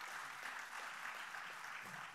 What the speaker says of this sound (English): We want to go ahead and give a round of applause to our panelists and those who have joined us today.